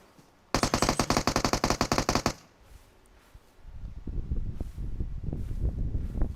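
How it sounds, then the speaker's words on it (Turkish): A rapid automatic burst of gunfire in the PUBG Mobile game rattles loudly for about two seconds. Quieter rustling and movement sounds follow. "Vurdum ben seni."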